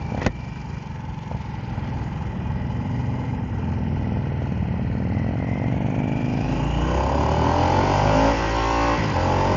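The engine of a 2023 Harley-Davidson Nightster Special motorcycle revs and climbs in pitch as it accelerates through the gears, a loud, steady, rising roar heard close up from the ride, with wind noise and no talking.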